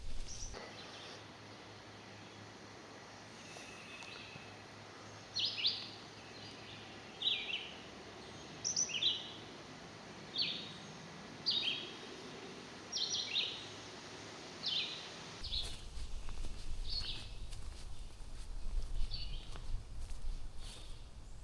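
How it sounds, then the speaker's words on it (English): A thrush sings along a wooded trail in Calvert County, Maryland, sending short phrases at a steady pace of roughly one every second or two, moderately far and soft over a faint hiss of woodland background. "There's a thrush up here along the trail."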